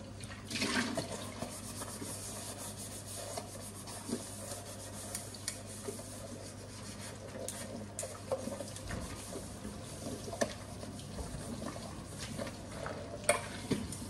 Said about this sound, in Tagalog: Ito lang naman hugasan ng rice cooker para tuyo na.